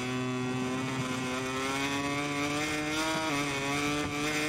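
Motorcycle engine in the MotoGP21 racing video game, a steady high-pitched whine with stacked harmonics that rise gradually as the bike accelerates, loud and continuous with no talk over it.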